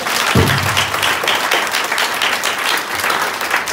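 Church congregation at an outdoor mission meeting in Nyamira, Kenya breaks into a loud burst of clapping and applause that swells and carries steadily through the moment, a dense crowd sound with a few voices mixed in.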